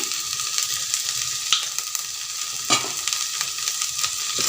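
Spiced vegetable mixture with garam masala, salt and chili being stirred in a hot pan, a steady sizzle and scrape with a couple of sharper utensil knocks, close and continuous, no talking.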